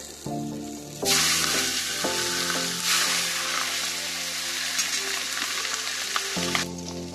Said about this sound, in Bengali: ভালো করে মাছের মাথাটা ভেজে নেব লাল লাল করে